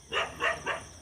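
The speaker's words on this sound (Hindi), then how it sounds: "कुत्ते भौंक रहे होंगे" Three quick, close dog barks in an even rhythm, each short and fairly loud, with no talking over them.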